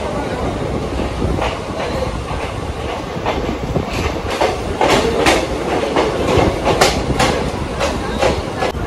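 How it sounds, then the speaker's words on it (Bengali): A passenger train pulling into Shantiniketan station, with a loud, close rumbling roll and rhythmic clickety-clack of wheels over rail joints, heard from on board. "ট্রেন আমাদের শান্তিনিকেতনে ঢুকে পড়েছে"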